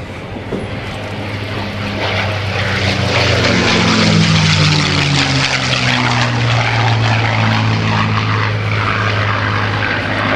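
Loud, close roar of a Mustang propeller plane's Allison V12 liquid-cooled piston engine sweeping past at an airshow, its droning pitch sliding downward as it passes, with a heavy wash of noise throughout.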